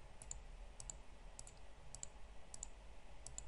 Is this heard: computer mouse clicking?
yes